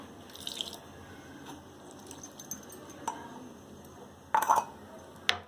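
Water trickles and drips into a grinder jar while a garlic chutney is being made, in a few short, faint splashes and drips with a brief louder clatter near the end.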